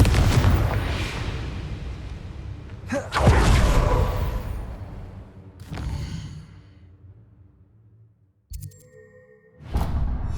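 Confringo and Bombarda spell blasts in the Hogwarts Legacy video game, several separate booming bursts and whooshing impacts spaced a few seconds apart, loud and close, with brief quieter gaps between them.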